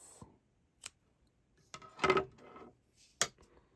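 Scissors snip yarn in a quiet room: a few sharp, close metallic clicks and a short crisp cutting sound, spaced apart with near silence between them.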